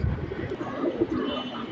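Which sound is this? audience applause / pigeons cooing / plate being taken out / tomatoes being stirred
pigeons cooing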